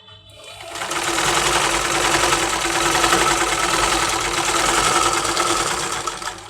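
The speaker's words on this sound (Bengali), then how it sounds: "সেলাই করার সময় কিন্তু খেয়াল রাখতে হবে এটা টান দেওয়া যাবে না হালকার উপর রেখে আপনার সেলাই করতে হবে" A sewing machine stitching blouse fabric runs in one loud, continuous whirring burst that starts after a brief pause and holds steady to the end.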